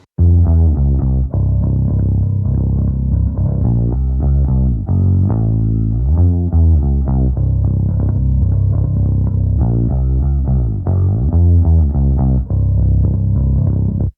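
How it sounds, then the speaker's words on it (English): Direct-input bass guitar track with a high-pass filter set at 162 Hz, playing a loud, continuous line of plucked notes with sliding pitch changes, heard alone without voices. "This is going to be giving me the low end of the bass guitar."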